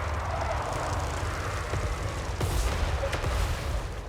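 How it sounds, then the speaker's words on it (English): Skull Cannon artillery firing in a Total War: Warhammer 3 battle, with a couple of sharp booming shots cutting through a steady low rumble of battlefield noise. "nice shot from the Hell Cannon, Skull Cannon"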